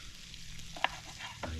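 Vegetables cut into large chunks fry in steak fat in a pan, a soft steady sizzle with a few brief stirring clinks, heard alone.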